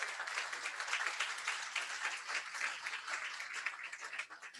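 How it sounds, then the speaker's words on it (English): An audience applauds at an immigrant-support event, a dense, fairly soft patter of many hands clapping steadily and tapering slightly at the end. "Please give her a round of applause."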